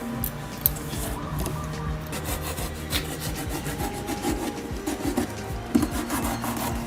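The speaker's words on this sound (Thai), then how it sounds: "นี่เดี๋ยวเราก็มาเจาะหัวกันครับ" Scraping and rubbing on a cardboard box as a hole is pierced in a DIY robot head, a steady close rasping that runs throughout with a few sharper scuffs.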